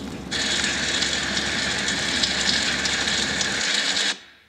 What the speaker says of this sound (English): a dishwasher